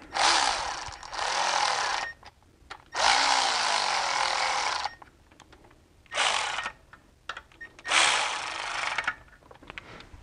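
Power tool running down camshaft cap bolts on a BMW M54 engine from an E46, four loud close bursts of whirring and ratcheting, each lasting one to two seconds, separated by quiet pauses with small metallic clicks.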